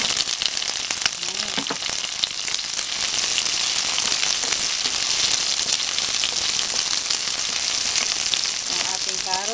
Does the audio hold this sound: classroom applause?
no